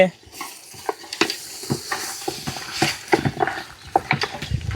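Boiled mutton pieces being stirred into fried masala for a biryani, with repeated scraping and stirring strokes over a soft sizzle, close and moderately loud, with a few scattered bumps.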